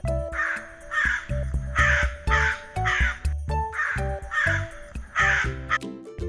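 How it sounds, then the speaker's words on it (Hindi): A black crow caws repeatedly in a loud, close series of harsh calls, about eight in a steady rhythm, with a musical backing underneath and no voices. "उनमें से एक काला कौआ था"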